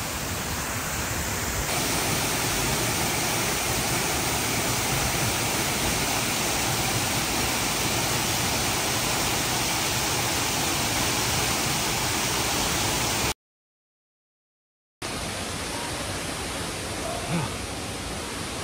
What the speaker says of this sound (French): La cascade juste là.